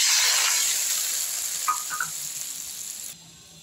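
Ground mustard and poppy seed paste poured into hot oil tempered with dried red chilli and five-spice seeds bursts into a loud hissing sizzle that gradually calms, with a few small bubbling pops, then drops off abruptly.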